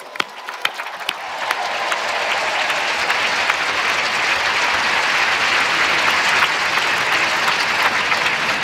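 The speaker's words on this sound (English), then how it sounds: "let's give the dads in particular a round of applause" A large audience at a Stanford commencement on Father's Day breaks into sustained applause for the fathers present, with dense, even clapping that swells within the first second and holds steady and loud throughout.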